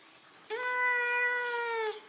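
A cat gives one long, drawn-out meow, close and clear, holding steady for over a second before stopping, with no other sound around it.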